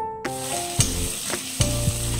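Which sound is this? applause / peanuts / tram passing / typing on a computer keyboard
peanuts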